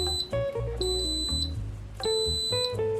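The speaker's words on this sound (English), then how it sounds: "once it's all done cooking, you're gonna hear 10 beeps like that" An Instant Pot pressure cooker, having just finished cooking quinoa, gives off a series of electronic beeps in a steady rhythm, clear and close with no talking.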